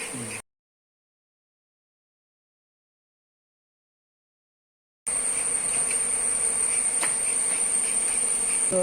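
Honey bees around a hive buzz in a dense, steady hum after a stretch of silence, close and fairly loud.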